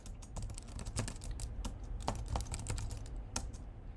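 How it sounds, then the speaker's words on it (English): Keys clatter on a computer keyboard in quick irregular bursts of close clicks, steady typing with no talk. "I type it out for them."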